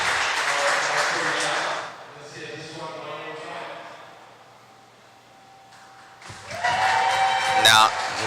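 Applause from the crowd at an indoor RC car racing event, heard as a short burst of clapping that fades away and is followed by talk and a loud close noise.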